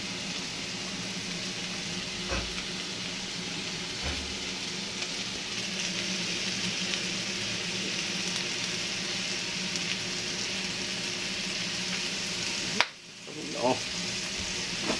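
Hot cooking oil sizzles and fries steadily throughout, with occasional pops, a continuous close hiss that breaks briefly near the end.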